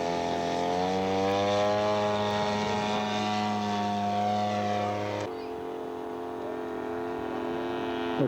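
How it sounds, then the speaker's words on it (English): A Tank 152 scale model aircraft overshoots with its propeller engine droning loud and steady, the tone sliding in pitch as it passes close by, then dropping lower as it pulls away. "Looks like a landing for the Tank 152. Overshoot."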